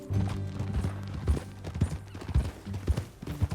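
Horse hooves clip-clop in a Red Dead Redemption 2 ride, a regular rhythm of close, distinct hoof strikes over a low steady drone, with no speech.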